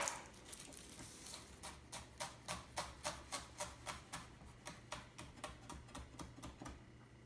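A knife chops shallots very finely on a board, a quick, even run of crisp close taps that speeds into a steady rhythm for several seconds.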